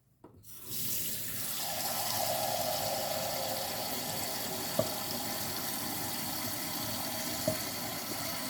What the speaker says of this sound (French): mettre à tremper pour pouvoir le laver après